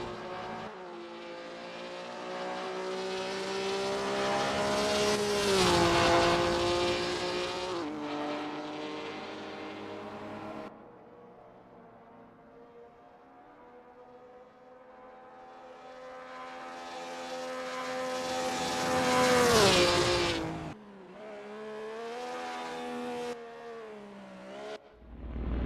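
Ford Capri Mk1 classic touring car lapping the Oesterreichring in Assetto Corsa, its engine revving hard through the gears, rising and falling with each upshift and braking zone, loud and close with no speech.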